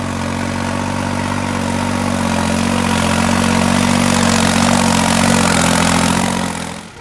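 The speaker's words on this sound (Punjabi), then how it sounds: "ਆਹ ਟਰੈਕਟਰ ਦੀ ਸਾਨੂੰ ਆਵਾਜ਼ ਤੋਂ ਹੀ ਪਤਾ ਲੱਗਦਾ ਵੀ ਅੰਡਰ ਲੋਡ ਹੈ ਕੋਈ ਓਵਰ ਲੋਡ ਨਹੀਂ ਹੈ" A New Holland 3630 tractor engine labours steadily while pulling a 15-tine tiller, a loud, close, continuous diesel drone that holds level and then drops away at the very end.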